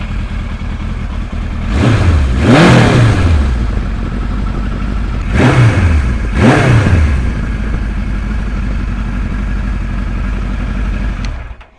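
A 1975 Kawasaki Z1-B motorcycle engine idles loudly up close, with two pairs of sharp revs rising and falling before it settles back to a steady, rumbling idle.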